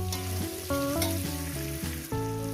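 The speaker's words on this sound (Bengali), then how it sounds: "আমি কুমড়োটাকে ভাজছি" Pumpkin frying in a pan, a soft steady sizzle in the background, partly covered by prominent tonal music playing over it.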